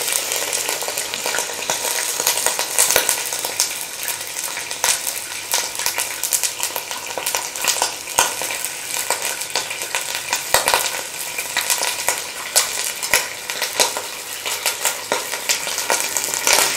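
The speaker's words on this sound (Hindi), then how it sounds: "अब हम इसमें चिकन ऐड करेंगे।" Chicken sizzles and crackles continuously in hot oil in a karahi, with a spoon scraping and stirring at close range, loud and steady without talk.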